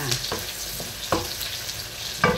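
Onion and garlic sautéing in a pan, a steady close sizzle broken by a few scraping stirs at irregular intervals.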